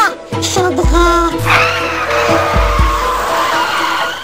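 A car's tires squeal in a loud, sustained skid, with the engine note shifting under the screech before it hits a pedestrian.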